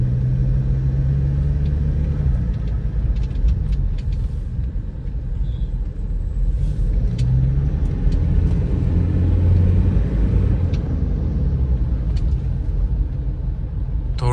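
A Toyota Fortuner fitted with a new BMC air filter is driven on the road, its engine and road noise forming a steady, continuous low rumble from inside the cabin.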